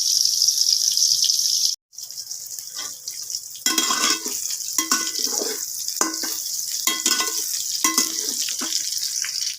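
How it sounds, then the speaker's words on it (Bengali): Soy chunks frying in mustard oil with salt and turmeric, a steady broadband sizzle with intermittent stirring scrapes, close and continuous after a brief break near the start. "সয়াবিনগুলোকে আমি ভেজে নেব"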